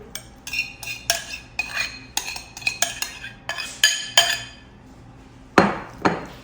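Tabbouleh salad with green onion, mint and its sauce being mixed: a run of close, sharp utensil clinks and scrapes against a bowl in an uneven rhythm, with two louder knocks near the end and no voices.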